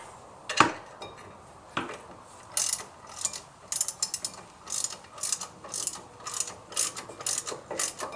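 Ratchet wrench with an 18 mm socket tightening a bolt on the brake bracket of a 1999 Jeep Grand Cherokee WJ during a Teves to Akebono brake swap; two sharp knocks, then a steady run of close, rhythmic clicking bursts.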